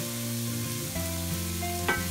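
Konkani masala and Kashmiri red chili powder fry with tomatoes in a pan for a prawn masala curry, giving a close, steady sizzle. A spatula stirs through it, with a sharper scrape near the end and no talking.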